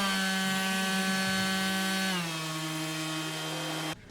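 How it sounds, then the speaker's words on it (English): A 2.5-pound cordless sheet sander runs close and loud with a steady, buzzing motor whine. Its pitch dips slightly midway and the sound cuts off abruptly just before the end. "this thing is a powerful little sander."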